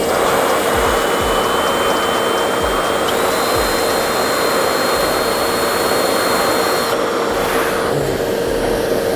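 A loud, steady vacuum cleaner sucking up drill shavings inside a BMW F30 335i roars continuously with a high whine, broken by occasional low thumps and scraping as debris is drawn in.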